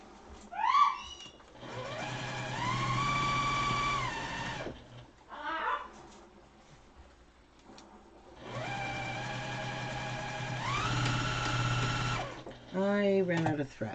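A sewing machine stitching a fabric mask with roughly a quarter-inch seam, two long steady whirring runs separated by a pause, close and loud, with short bursts of talk around them.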